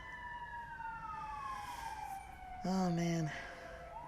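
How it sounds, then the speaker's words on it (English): Emergency vehicle siren outside in the early morning, a faint wailing tone sliding slowly downward in the distance, with a short louder burst of blaring near the end and a brief spoken remark. "8:14 a.m. sirens already."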